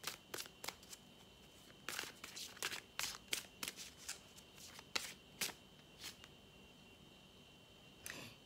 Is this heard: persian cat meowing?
no